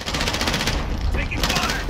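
Rapid gunfire in a video game, dense bursts of shots loud and close across the whole moment, with brief voice chatter mixed in.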